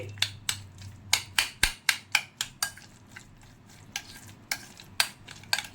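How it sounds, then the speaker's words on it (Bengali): Egg, onion, pepper, mayonnaise and salt being mixed in a bowl, a close run of quick rhythmic clacks and taps of a utensil against the bowl, alone with no talk. "ডিম পেঁয়াজ গোলমরিচ মেয়নিস আর নুন ভালো করে মিক্স আপ করে নিচ্ছি"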